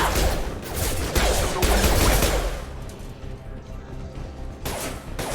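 Rapid bursts of sci-fi gunfire from Mass Effect Legendary Edition crackle loudly over the first half, ease off into a busy mechanical din, then return briefly near the end.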